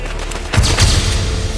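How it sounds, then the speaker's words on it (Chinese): Firecrackers set off through the streets of an old imperial capital for a wedding celebration, a sudden dense crackling barrage that bursts in partway through and keeps rattling loudly to the end. "京城的大小商铺为了一尽情谊，便从大清早就开始燃放鞭炮"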